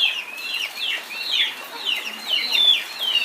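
Chickens on a Konkan farm cluck in short, repeated bursts, several birds calling close by in a busy, uneven rhythm. No one speaks.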